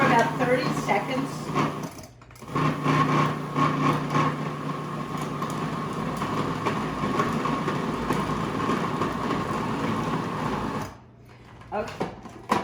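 A new food processor runs continuously, mixing pecan bar ingredients with a loud, steady whirring drone broken by short pauses, close to the microphone.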